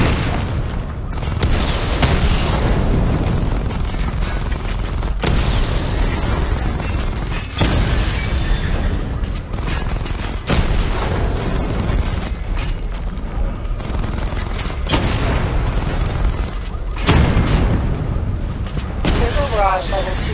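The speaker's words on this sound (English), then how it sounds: "Charge the missile barrage to level 2 to destroy up to 4 targets at once" A missile barrage in the video game Batman Arkham Knight: loud, heavy booms recur every few seconds throughout, with rumbling and bursts between them and a voice over the action.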